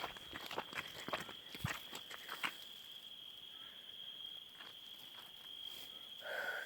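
Footsteps crunch over ground outdoors in a village at night, several close steps in an irregular rhythm that fade into a steady background of chirping crickets.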